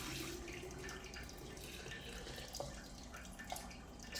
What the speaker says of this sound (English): all this whey I want to save, so I'm going to pour it into this